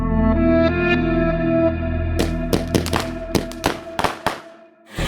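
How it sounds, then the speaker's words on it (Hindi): Sharp firecracker bursts, about six or seven cracks in an irregular cluster, crack out over a sustained musical drone. They begin partway through and stand out loudly, with no voices. "पता नहीं कौन पटाखे फोड़ रहा है।"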